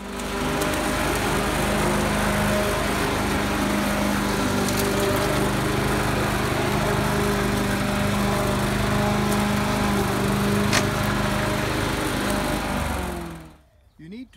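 A lawn mower cutting a lawn runs close and steady with a constant droning engine for most of the stretch before cutting out at the very end; no one speaks over it.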